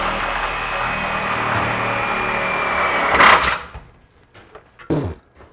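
A power drill pre-drilling holes on a 1955 Buick whines steadily at high speed, rises briefly, then cuts off, leaving a few quieter knocks and short bursts.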